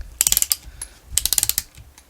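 Screws are driven into a Losi 5ive T parts kit in two quick bursts of sharp ratcheting clicks, close and crisp, with a short pause between them.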